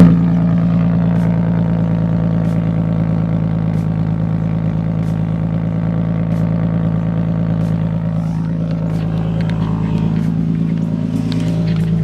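A Lexus IS300 inline-six with a muffler exhaust, check engine light on and high mileage, idles with a steady, close, even drone throughout.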